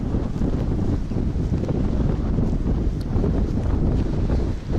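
Steady, loud wind buffeting the microphone throughout, a constant low roar with gusty fluctuations and no voices.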